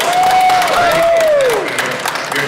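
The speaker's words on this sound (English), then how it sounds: "Let's have a round of applause here for Mr. Music, Norman Knight." Crowd at the Autorama Show at the I-X Center in Cleveland greets a radio personality with loud applause and cheering, while a voice talks over the clapping.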